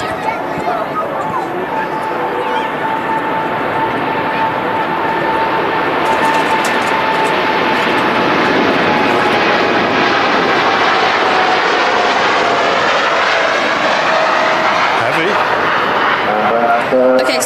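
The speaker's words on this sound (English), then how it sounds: "TUI Dreamliner departing next" A TUI Boeing 787-9 Dreamliner departing Manchester Airport, its jet engines roaring in a loud, steady, swelling rumble that builds over the whole stretch, close and dominant.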